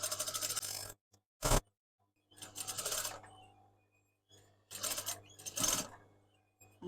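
A domestic sewing machine stitches down the centre of an overlocked seam on beach shorts, running in several short bursts separated by pauses, close and moderately loud.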